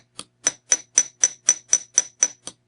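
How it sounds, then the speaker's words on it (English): A small 2-ounce ball peen hammer taps metal wire lightly in a steady, even rhythm, about ten crisp, bright clicks over a few seconds, close and alone with no voice. "my 2-ounce ball peen hammer, I hammer the metal ever so lightly"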